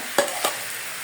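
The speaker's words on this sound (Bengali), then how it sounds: "আমি এখন এটাকে চুলায় একটা কড়াই বসে দিয়েছি, কড়াইটা গরম হয়ে গেছে। এখন আমি দিয়ে দিব।" Sugar-coated olives tipped into a hot wok give two short, close sizzling stirs, the second softer, then a low steady background hiss.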